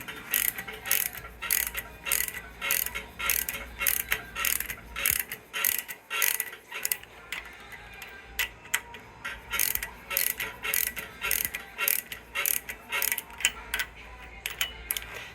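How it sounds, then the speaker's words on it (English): A hand ratchet tightens the lock nut on a pushrod of an Oldsmobile 455 engine while hydraulic flat tappet cams are adjusted, giving long, rapid runs of close, sharp ratcheting clicks with one brief pause midway. "I'm turning the ratchet with the other hand"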